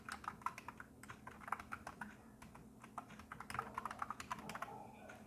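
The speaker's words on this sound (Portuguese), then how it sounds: "Clico sobre ela e posso digitar qualquer coisa aqui" Quiet, rapid typing on a computer keyboard, a steady patter of close key clicks with no voices.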